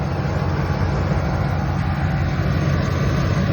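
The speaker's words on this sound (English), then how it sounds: "So with the engine on, I turned on the compressor." A steady low mechanical drone with a faint buzzing hum, continuous and unchanging: a small air compressor filling a train horn tank on a truck, running beside the truck's idling engine.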